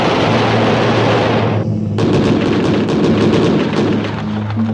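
A six-barrel aircraft cannon fires in long, loud, roaring bursts, a dense buzzing rattle that briefly drops out and then resumes, with no talking.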